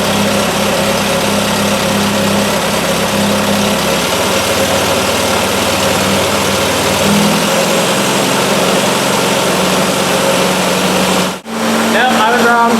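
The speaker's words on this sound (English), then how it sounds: "bump up on the RPM here a little bit" A Triumph Spitfire engine idles steadily with its RPM raised by a screwdriver adjustment, a close continuous hum whose pitch shifts slightly; near the end it cuts out briefly, and voices speak over it.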